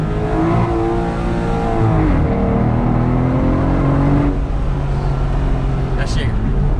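An Aston Martin DBS V12 engine revs loudly nearby, pitch climbing and falling through gear changes, with voices talking over it.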